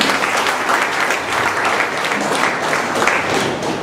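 A room full of people claps steadily for two volunteers called up to the front of a communication skills session, a dense, even round of applause lasting throughout with no talking over it.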